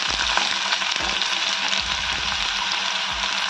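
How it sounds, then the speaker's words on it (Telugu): Finely chopped onion with green chilies sizzles steadily in hot oil, close and continuous, with occasional clinks and scrapes of a spoon stirring the pan. "మిర్చి ఫ్రై అయ్యాక సన్నగా తరిగిన ఆనియన్ వేసేసుకున్నాం"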